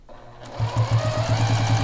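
A sewing machine stitches quilt binding along the edge with a quarter-inch foot, starting after a short pause into a quick, evenly pulsing run of stitches, close and clear with no voices.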